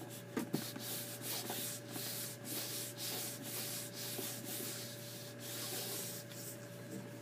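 Hands rub and smooth the edges of a covering on a box in steady soft sanding-like strokes, a continuous close rasp with a brief sharper scrape near the start and no talk.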